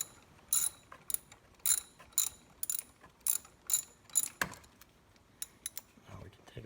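A ratchet clicks in quick, close bursts while backing off the 10mm valve cover bolts on a Kia Rio, with about a dozen separate ratcheting strokes spaced through the stretch.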